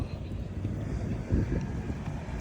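Strong wind buffets the microphone outdoors, a continuous low rumbling roar with gusts.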